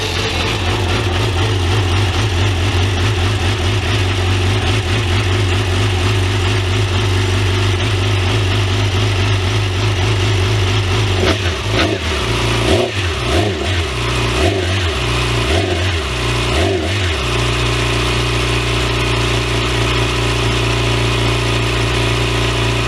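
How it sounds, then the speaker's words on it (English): A 2014 Yamaha R6 sport motorcycle engine runs steadily at a loud, close idle, with a stretch of uneven throttle blips and stutters partway through before it settles back to a smooth idle. "Now you can start the bike."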